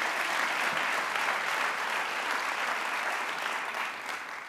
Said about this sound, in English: And yes, let's applaud them.